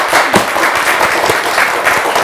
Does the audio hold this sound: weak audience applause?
yes